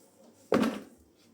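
A single short, sharp click and scrape as a knife pries open the pinned cover of a bee queen-rearing set box, brief and close in an otherwise quiet space.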